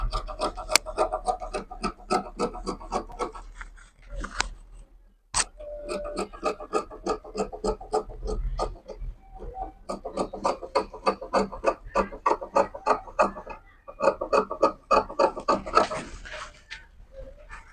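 Fabric pieces for a baby girl dress being cut with scissors, close up: long runs of rapid rasping snips in steady rhythm, broken by brief pauses and a sharp tap, with no talk.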